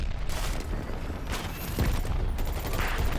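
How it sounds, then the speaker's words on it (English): Machine gun fire in a competitive first-person shooter match, a dense continuous burst of rapid shots over a steady roar of game noise, loud and sustained throughout. "Holy crap, Mixa on that MG."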